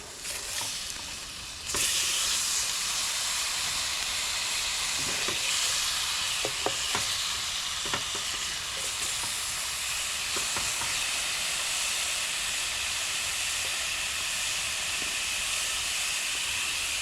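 Teriyaki sauce poured onto fish frying in a pan at a riverside campsite, erupting into a loud, steady hiss and sizzle with occasional pops and clinks, sustained alone for many seconds.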